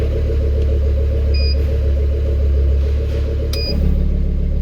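A car engine idles steadily after a fuel system upgrade with a surge tank, warming up toward operating temperature: a loud, continuous low rumble with a brief pitch shift near the end, no talking.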